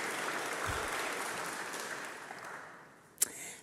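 A crowd at a memorial service applauds steadily, the clapping fading toward the end before a single sharp knock.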